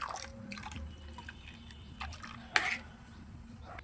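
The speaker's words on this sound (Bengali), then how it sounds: "অল্প একটু জলও আমি দিয়ে দিচ্ছি।" A little water is poured into a pan of hilsa fish curry, giving soft drips and a brief splash midway, faint and close under quiet background noise.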